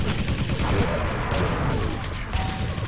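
Rocket launchers fire and explode in a team deathmatch of the arena shooter Quake Live, a dense, loud, continuous barrage of blasts and crashes with game mechanisms clanking throughout.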